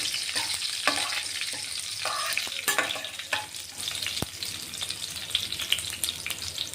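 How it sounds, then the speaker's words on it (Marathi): Garlic frying in hot oil for a Marathi phodni tempering: a steady, close sizzle with crackles and occasional clinks of a stirring spoon, no voices. "लसूण घेतोय आपण. आता लसूणही चांगला लाल झालेला पाहिजे. फोडणी"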